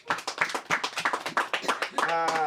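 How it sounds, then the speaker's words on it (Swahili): A church congregation claps in a fast, steady rhythm, close and lively, with cheering and ululation joining toward the end. "Pigeni shangwe na vigelegele kwa Yesu."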